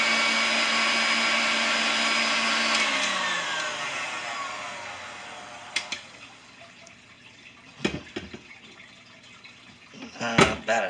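An electric mixer whips fresh cream toward stiff peaks for a black cherry pie, a loud continuous whirring hum that winds down and stops, followed by a few clattering knocks of the beaters against the bowl.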